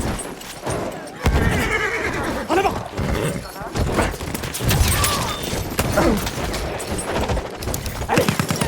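Horses neigh and their hooves gallop in a Battlefield 1 cavalry match, with whinnies rising over gunfire bursts and a voice shouting commands in French.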